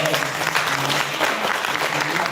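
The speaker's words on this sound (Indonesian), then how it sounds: "Tepuk tangan dulu untuk" A crowd claps together at a wooden talempong workshop in Sijunjung, West Sumatra, with a full, continuous round of applause and faint voices mixed underneath.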